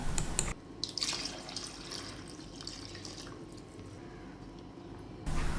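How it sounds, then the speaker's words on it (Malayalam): Two or three glasses of water are poured into ground batter for payasam, a wet splashing, gurgling stream that runs for several seconds at close range. No one speaks. "ഒരു രണ്ട് മൂന്ന് ഗ്ലാസ്സോളം വെള്ളം ഇതിലേക്ക് ഒഴിച്ചു കൊടുക്കാം"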